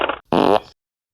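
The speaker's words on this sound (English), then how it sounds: "It makes me fart." An animal lets out a fart: a short buzzy burst, then a longer loud, flapping one that trails off quickly, close and alone.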